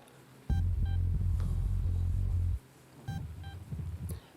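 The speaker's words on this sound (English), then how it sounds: "Beep, beep." Electronic beeps ring out over a deep, throbbing bass rumble in a heavy industrial metal song, a repeated pair of short tones sounding twice within the loud, pulsing mix.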